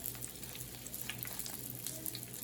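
Yellow corn tortillas fry in oil, giving a quiet, even sizzle with small pops scattered through it, steady and close with no voices.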